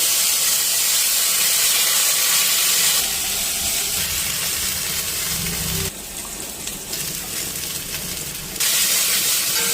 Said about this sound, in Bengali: ভালো করে মশলাটা ফ্রাই করে দিই